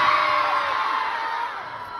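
A livehouse concert audience screams and cheers loudly for a guest performer at a birthday show, the whooping crowd fading slightly over two seconds.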